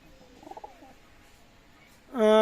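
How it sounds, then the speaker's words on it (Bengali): A soft, low pigeon coo rises briefly early on, then quiet before a loud sustained tone cuts in at the end. "আজকে যে কবুতরগুলো দেখাবো অসাধারণ কবুতর"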